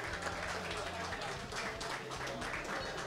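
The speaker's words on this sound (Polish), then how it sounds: "Zapraszamy, brawa." An audience at a photo and video trade fair awards ceremony applauds in a dense, even patter, while a presenter's voice carries over the clapping.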